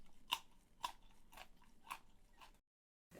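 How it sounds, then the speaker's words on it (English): Crisp bites and crunchy chewing of fresh whole carrots, close and quiet, about five distinct crunches in a steady rhythm, followed by a brief silence. "Grimway Farms, fresh and crunchy whole carrots."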